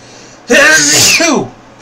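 One loud, close sneeze with a sharp intake and a voiced burst, alone against a quiet background.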